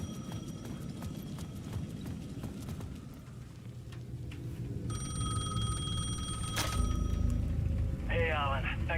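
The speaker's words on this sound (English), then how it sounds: "The payphone at the edge of the plaza was ringing again." A payphone rings in the video game Alan Wake 2, its bell rising through the later part of the clip over rumbling ambience and clopping steps, with a voice talking.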